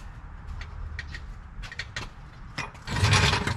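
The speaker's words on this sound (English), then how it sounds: "Jack up the axle, rather." A jack raises the axle of a Jeep LJ on 37-inch tires with quick ratcheting mechanical clicks, up close in a garage, a louder metallic burst near the end.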